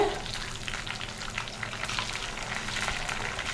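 Fish frying in sesame oil in a pan, a dense, continuous crackling sizzle heard up close, with bubbling and spattering that holds steady throughout.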